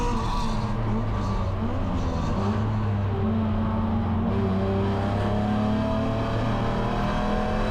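A BMW SPEC E9X race car engine drones steadily at high revs on track at Gingerman Raceway, pitch rising and shifting through gears, loud and close throughout.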